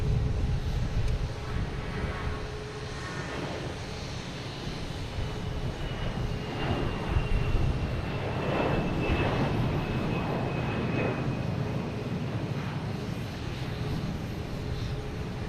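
An American Airlines Airbus A321 jet heading to Charlotte passes at Boston Logan Airport, its engines a broad, steady roar that holds loud and unbroken throughout.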